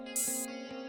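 A single bright open hi-hat hit sizzles briefly over a sustained electronic synth tone in a hyperpop beat, close and without speech.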